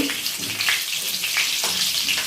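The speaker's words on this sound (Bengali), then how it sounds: "আগে পেঁয়াজটা দিয়ে এরকম সবজিগুলো সব ভেজে নেব" Sliced onion and mixed vegetables for sambar fry in a pan, a close, continuous sizzle broken by a few quick stirring strokes.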